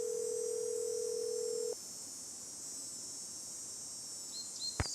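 A telephone in a Nancy Drew ghost-dog mystery game plays a steady dial tone that cuts off, then a faint quiet stretch, ending with a short sharp electronic tone burst, over a high insect-like night ambience.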